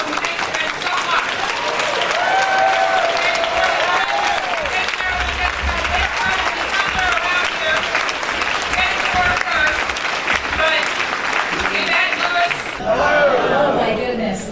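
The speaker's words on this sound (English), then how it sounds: "please join me in giving them a round of applause" An audience at a political rally breaks into sustained, loud applause that swells and holds for the whole stretch, with cheering and crowd chatter mixed through it.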